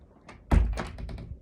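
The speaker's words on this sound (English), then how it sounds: "let me close this door, it's driving me nuts." An indoor door swings shut with a single dull thunk up close, followed by a brief rattle that quickly fades in a quiet room.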